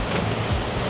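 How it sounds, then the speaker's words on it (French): Strong wind and waves on a sailboat beating close-hauled in roughly 25 knots of apparent wind, a dense, continuous roar of gusts and water rushing past with no voices. "Le vent est trop fort."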